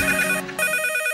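A telephone rings with a bright electronic tone, steady and close, pausing briefly partway through before ringing on, with no talk over it.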